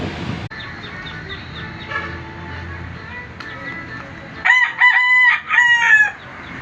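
Fighting roosters crowing and clucking, with scattered clucks and calls early on, then several loud, close crows in quick succession toward the end.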